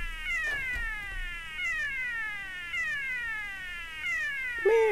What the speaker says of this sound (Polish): Miau, miau.